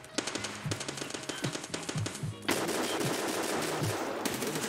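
Automatic gunfire in the video game Escape From Tarkov: loud, rapid bursts of close shots with short pauses, then a dense sustained stream of fire.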